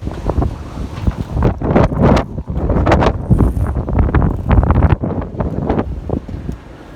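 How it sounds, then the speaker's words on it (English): Strong wind buffets the microphone at the bow of a sailboat on a sunny February day, with water spray and waves splashing around in loud, gusty rushes and bursts, close and rough with no talk. "you can see how much the water's getting blown around and hear the wind as well."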